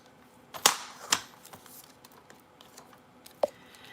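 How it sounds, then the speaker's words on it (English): Paper border strip being trimmed for a mini book, heard as a couple of sharp crisp cutting snaps close up, then a quieter pause and one more short snip, with no talking. "So let's trim that to 6 inches."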